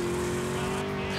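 Car tires skidding and squealing in GTA Vice City, heard as a short, loud screech over a droning engine.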